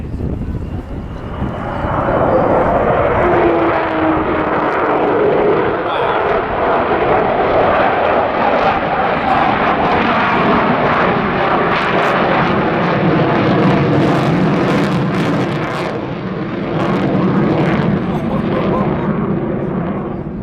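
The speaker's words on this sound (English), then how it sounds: "It's the famous Vulcan howl." Avro Vulcan jet bomber with Rolls-Royce Olympus engines at an airshow display, a loud sustained howling roar that swells and fades as the aircraft passes, with a commentator talking over it.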